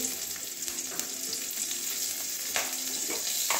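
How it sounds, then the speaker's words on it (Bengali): Garlic and green chillies fry in hot oil, a loud, close, continuous sizzle and crackle with occasional stirring scrapes and pops, no talking. "এবারে রসুন কটা ভেজে নেব"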